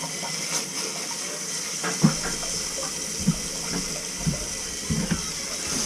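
A toilet flushing after a clogged sewer line was cleared at the flange, water rushing steadily with a few soft thuds and knocks over it, close up and without speech.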